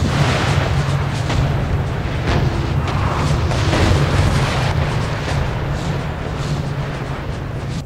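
Cannon volleys from army units in a star fort battle video game, a dense continuous rumble of booms and distant artillery blasts rolling over one another, loud and sustained without pauses.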